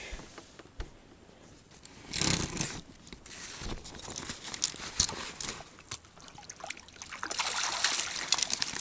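Freshly caught crucian carp, taken on peas with a float rod, splash and flip in water; wet slaps and dribbles come in bursts, fairly near and moderately quiet.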